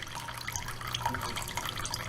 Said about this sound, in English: there ain't a lot of water coming out of here